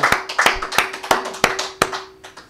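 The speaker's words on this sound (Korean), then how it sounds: "하나님께 영광의 박수를 돌립니다." A church congregation claps together in a steady, even rhythm, loud and close, with a faint sustained low tone underneath.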